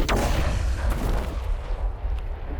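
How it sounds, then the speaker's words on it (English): A beacon exploding in the Mass Effect video game, a loud, deep boom that opens with a sharp burst and rolls into a long, heavy rumble. "Beacon exploded."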